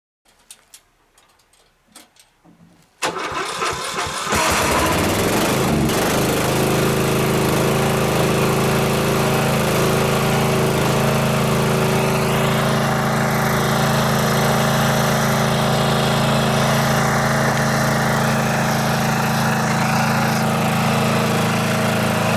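A riding lawn mower engine cranks with a few sharp clicks and sputters, then catches and roars into a loud, steady close-up drone that runs without a break for the rest of the stretch, with no talk.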